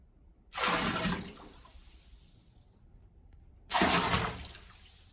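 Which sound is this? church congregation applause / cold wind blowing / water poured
water poured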